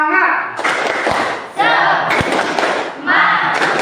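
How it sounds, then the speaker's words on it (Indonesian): Pupils in a school classroom perform a rhythmic spirit clap, a chanted clapping routine with group voices. Bursts of clapping and shouting come in three loud, close phrases separated by short pauses. "Tepuk semangat."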